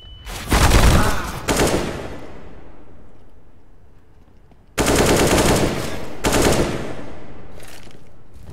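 Gunfire in a Counter-Strike style shooter on the Nuke map, loud rapid automatic bursts with a pause in between, then longer sustained sprays, close and dominant without talk.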